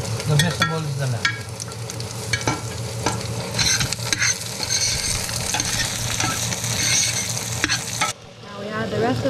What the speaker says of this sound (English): We got sizzle.